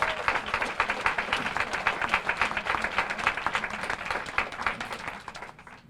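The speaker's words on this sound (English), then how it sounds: "I would want you to give them a big round of applause" Audience at a 2016 graduation ceremony applauding the graduates' parents, steady rapid clapping throughout at moderate volume, tapering off at the end.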